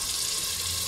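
Water pours steadily into a cooking pot of mutton paye on the stove, a brief, continuous rushing hiss at moderate volume with no other sounds.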